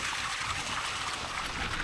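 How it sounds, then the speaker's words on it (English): A small waterfall trickles steadily along a coast-to-coast walk between Kirkby Stephen and Richmond, its soft, continuous splashing heard alone with no talk. "Little waterfall."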